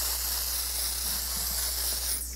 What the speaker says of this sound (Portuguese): Vou finalizar com esse spray fixador aqui.